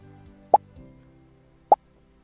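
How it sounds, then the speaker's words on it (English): Two short, crisp cartoon-style pop sound effects from Scratch Junior, spaced about a second apart over quiet background hiss. "So if we run this, we can see it is giving a pop sound."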